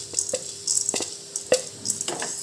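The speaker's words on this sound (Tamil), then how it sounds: "மிளகையும் நல்லா வறுத்துக்கிறோம்." Coriander seeds and black pepper dry roasting in a pan, stirred with a spoon that scrapes and clinks at intervals against the metal, close and moderately loud with no talking.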